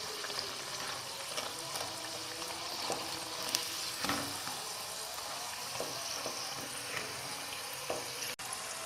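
Homemade chicken spring rolls fry in hot oil, giving a steady soft sizzle and crackle with occasional light stirring clicks, close up, with no talking.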